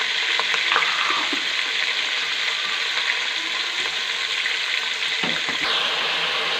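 Tomatoes frying in a pan for pethe ka salan, a pumpkin curry, give a steady, close, continuous sizzle with a few soft stirring scrapes and no talking.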